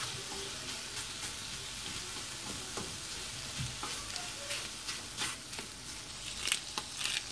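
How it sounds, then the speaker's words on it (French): Button mushrooms sautéing with butter in a frying pan, a continuous crackling sizzle with bursts of stirring and scraping, fairly close and steady throughout. "dans la poêle, on a mis des champignons de Paris. Donc on les fait revenir un petit peu."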